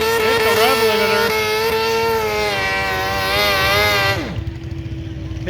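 A garden tractor engine screams at high revs and bounces off the rev limiter, a loud buzzing whine with stuttering pitch that suddenly drops to a lower idle near the end.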